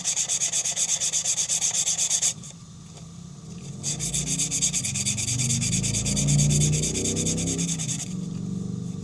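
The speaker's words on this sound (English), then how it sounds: "So I need to probably sand this down." Continuous rhythmic sanding of wood, a harsh scratchy rubbing that briefly stops and then resumes, close by with no voices.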